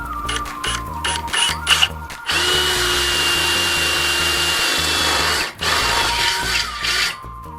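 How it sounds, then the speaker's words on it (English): A power drill bores holes into the curved tubing of a liveaboard sailboat's solar arch tower, with short bursts and pauses, then a long sustained whine, a brief stop, and another run. "Drilling holes in a curved surface is always fun."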